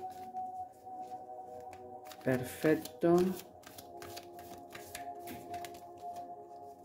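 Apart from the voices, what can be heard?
shuffling a deck of angel cards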